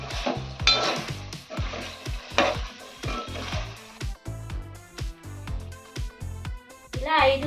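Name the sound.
stirring gongura chicken cooking in a pan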